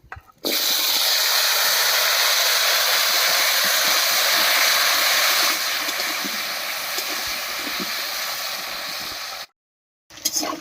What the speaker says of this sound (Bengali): এবার কেটে রাখা গাঁটি কচুগুলো দেব